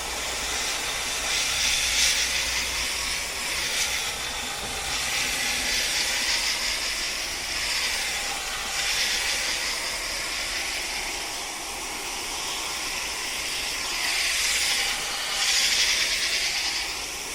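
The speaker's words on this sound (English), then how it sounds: "I go with a flat spray to start with, and then if I need to, I go into the jet." Steady hiss of a flat water spray rinsing the condenser coil of a Ruud AC unit that was not cooling properly, a continuous rushing wash with slight surges, with no talk.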